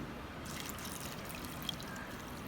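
Water pours steadily into a pan of seasoned balsam apple mixture on the stove, a soft continuous trickle and splash lasting a couple of seconds at low volume.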